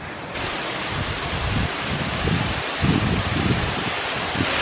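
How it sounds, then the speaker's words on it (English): A secluded waterfall among high cliffs in Pai, Thailand, gives a steady broadband rush of falling water, loud and continuous, with low gusty rumbles of wind on the microphone. "There's a nice secluded waterfall with high cliffs surrounding it."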